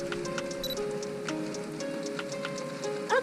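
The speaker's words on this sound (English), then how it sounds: "Yep, that's the rain." Rain falling outdoors, with a steady pattering of drops and light ticks throughout, fairly close and even in level.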